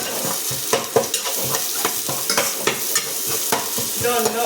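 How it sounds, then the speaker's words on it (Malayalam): Finely chopped onion and two or three green chillies sautéing in a pan, a close, steady sizzle broken by frequent spatula scrapes and taps against the metal in an uneven rhythm, with no voices. "സവോള ചെറുതായി അരിഞ്ഞതും 2-3 പച്ചമുളകും കൂട്ടിയിട്ട് ഇടുക. എന്നിട്ട് അത് നന്നായിട്ട് ഒന്ന് വഴറ്റിയെടുക്കുക."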